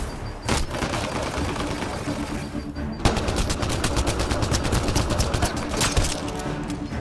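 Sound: gunfire from the video game Mass Effect: Andromeda

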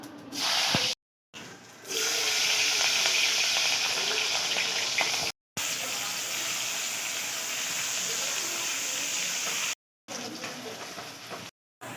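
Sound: onion, tomato, chillies and garlic frying in a pan

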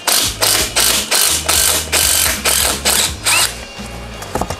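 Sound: ratchet removing 3/8 bolts from Polaris Sportsman back plate

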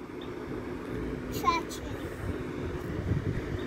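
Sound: tractor engine running nearby

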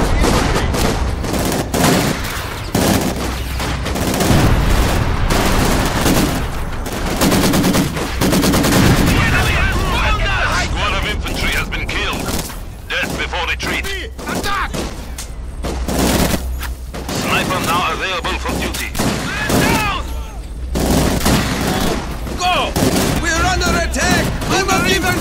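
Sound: incoming artillery and gunfire in video game Company of Heroes 2

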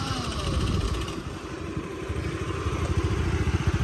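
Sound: Honda Dio scooter engine running

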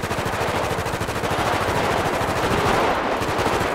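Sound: gunfire from a gang attack in a video game

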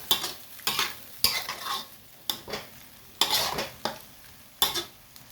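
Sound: stir-frying pork belly with lemongrass in a pan

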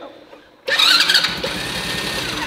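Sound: kids' ride-on toy tractor engine starting

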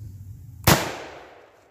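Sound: 8mm rifle cartridge firing, gunshot

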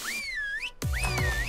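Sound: whistle command in video game ARK Survival Evolved

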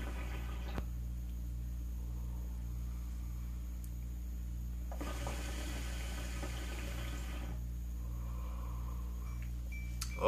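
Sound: hookah water bubbling while smoking

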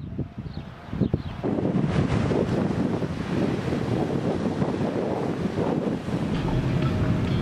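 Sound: wind blowing at the beach

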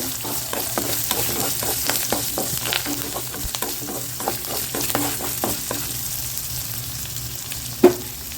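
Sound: garlic and curry leaves sautéing in a pan

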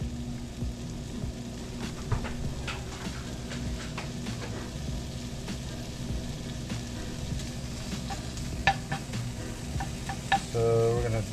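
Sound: bacon sizzling in a warming pan

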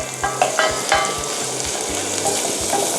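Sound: stir-frying tomato pasta sauce in a pan

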